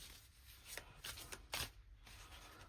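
Tarot cards being shuffled in a quiet room during a card reading: a few short, soft riffles and card flicks in separate bursts, close and faint, with no voices.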